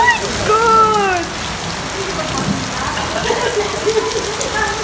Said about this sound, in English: Too much strong wind and rain, heavy rain after the hailstone!